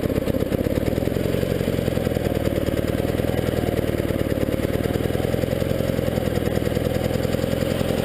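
A 1975 Sears Suburban ST16 garden tractor engine idles loudly and steadily nearby, a constant throbbing mechanical drone with no change in speed throughout.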